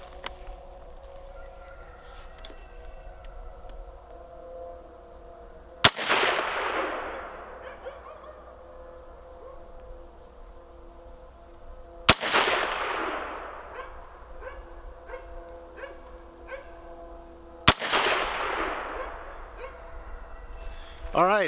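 A Savage A17 semi-auto rifle firing .17 WSM rounds at a 50-yard outdoor range: three loud, sharp shots spaced about six seconds apart, each leaving a long ringing decay, with geese honking in the background between them.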